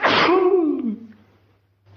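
A single loud, close sneeze from a person with a cold, a sharp burst that trails off into a long falling tone, followed by quiet.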